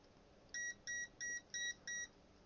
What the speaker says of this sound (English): Oh, it's starting to beep at me.